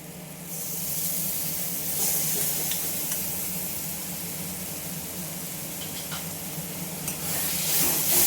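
Ground spice paste hits hot oil in a pan and sizzles loudly and steadily while being stirred, a dense close hiss with occasional scraping and a brief surge near the end.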